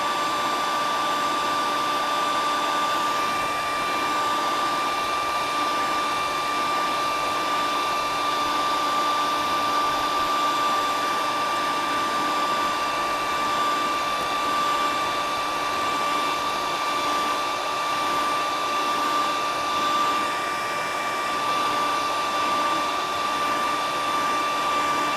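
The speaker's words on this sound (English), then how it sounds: "just take your heat gun or your air dryer" A steady, loud whoosh of a heat gun blowing hot air to dry poly varnish on a painted fishing lure, constant and unbroken throughout with a fixed high whine on top.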